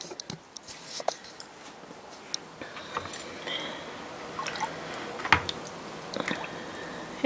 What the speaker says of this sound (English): Add some batter in.